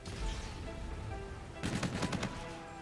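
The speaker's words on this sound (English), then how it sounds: "Teammate got shotgun in cold blood." Quiet Call of Duty: Infinite Warfare gameplay. After a low, steady game backdrop, a short burst of rapid submachine-gun-style fire rattles out in the second half, then fades back to the ambient bed.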